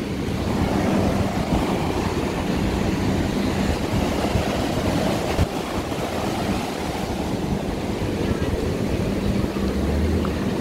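Ocean waves break continuously on a beach at Balneário Camboriú, a loud, steady roar of surf with wind buffeting the microphone throughout and no pauses.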